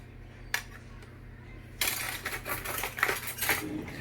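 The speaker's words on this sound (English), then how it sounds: "And I'm just going to mix it now." Spoon clinking and scraping inside a glass of green juice, stirring in quick uneven strokes that grow louder partway through, with no one talking.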